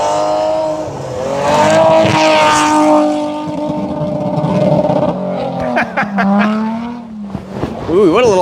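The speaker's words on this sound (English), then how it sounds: "That is riding the rev limiter." A rally car at the Oregon Trail Rally on a dirt stage bounces off its rev limiter, the engine note stuttering at a high steady pitch, loud and close, with people talking over it.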